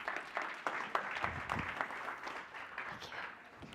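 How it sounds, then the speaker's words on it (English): Audience applause at a conference session on financial podcasting as a speaker is welcomed to the stage, a moderate burst of scattered clapping that holds steady and slowly thins out. "Let's give her a round of applause."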